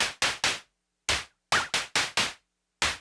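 Quiet bursts of hissy white-noise percussion from a Moog DFAM drum synthesizer, set to quirky pitches, hit in an irregular pattern, each one snapping on and quickly decaying.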